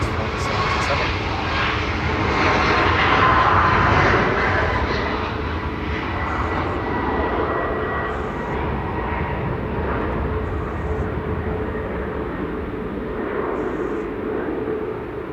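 A Boeing 777-300ER landing on runway 05 right at Manchester Airport after a flight from Abu Dhabi, its loud, broad jet roar steady and close throughout, with some talk mixed in.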